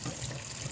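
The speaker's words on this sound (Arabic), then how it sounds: "وهغسله كده تحت الحنفية غسلة حلو" Tap water runs steadily from a faucet over olives being washed in a kitchen, a short close splashing stream with no talk.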